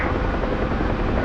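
The UH-1H helicopter in the flight simulator DCS gives a continuous low rotor and engine drone, steady and fairly loud throughout, with no speech.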